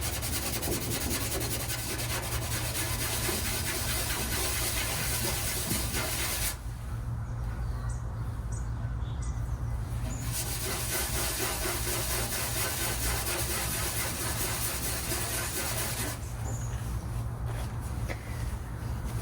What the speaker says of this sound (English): I am going to try the Scotch-Brite here still and see how that looks.